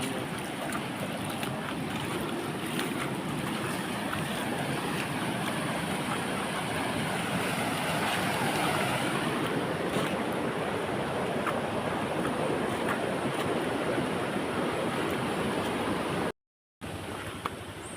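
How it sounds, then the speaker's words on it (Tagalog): Strong floodwater rushes past a rural roadside in the countryside, making a loud, continuous roar mixed with wind noise on the microphone. It stays steady until it cuts out briefly near the end. "so kusog kayong baha diri hapon"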